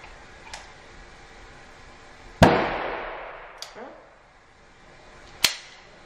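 A single loud .44 Magnum revolver shot cracks and rings out, echoing away, with a few sharp clicks and a second smaller crack before and after.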